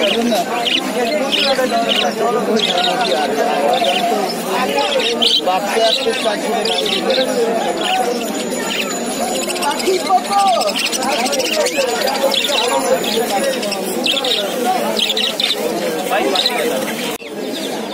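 Caged birds at the Mirpur bird market chirp and tweet continuously in a dense, busy chorus, with coo-like calls mixed in and people talking and bargaining nearby throughout.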